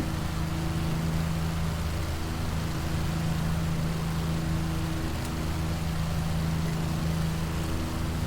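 A model P-40 airplane engine runs steadily, a loud continuous drone with a constant low hum and no pauses, heard alone without talk.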